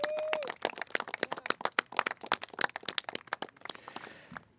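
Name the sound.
audience applause for elected officials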